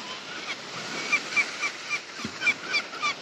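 Birds honking near the road to the sea at Sunny Beach in Bulgaria, a run of about eight regular, fairly loud honking calls over a steady background hiss like distant surf.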